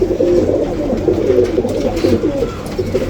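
Khaki pigeons coo continuously at close range, a loud, low, throaty burbling that rolls on steadily without a break.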